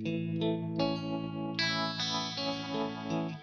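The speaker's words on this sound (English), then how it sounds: "Here's like panning trem." Electric guitar played through a stereo effects loop with a panning tremolo, sustained chords and single notes pulsing in a steady rhythmic wobble, loud and close with no talking.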